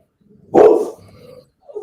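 Dog giving a single loud, close bark, followed by a short quieter trailing sound and a faint noise at the end.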